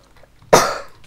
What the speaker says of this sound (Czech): ten kašel je fakt hrozný